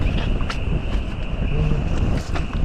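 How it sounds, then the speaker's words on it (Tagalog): Wind buffets the microphone in a continuous rumbling rush at a lakeside campsite on Mt. Talinis, with a faint steady whine and light scattered clicks, no talking. "Pasok yung hangin dito rin."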